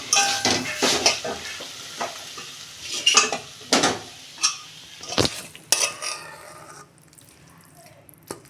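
Cooked malabar spinach is poured and scraped out of a cooking pot, with a series of close, irregular metallic knocks, scrapes and clatters, some sharp bangs midway, then the activity tapers off into quieter sounds.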